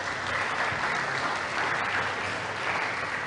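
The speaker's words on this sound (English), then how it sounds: "Ladies and gentlemen, please give them a round of applause." Steady applause from a seated audience at an English school debate, a dense continuous clatter of clapping that holds at an even level throughout with no voices on top.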